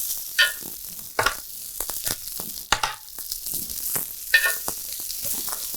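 Asparagus spears laid in a single layer sizzling on a grill, a steady crackling hiss broken by sharp pops and scraping clatters as they are moved about, close and fairly loud, with no voices.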